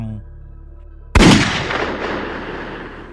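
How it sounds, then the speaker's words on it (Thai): A single gunshot rings out beside a house, a sharp loud crack that breaks a low steady hum and leaves a long echoing tail. "ได้ยินเสียงปืนดังขึ้นที่ข้างบ้าน1 นัด"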